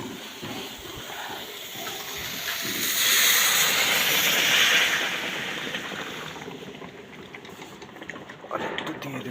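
Hot water poured into a cooking pan hisses and sizzles, swelling into a loud steamy rush mid-way before easing back to a softer bubbling fizz with clattering near the end.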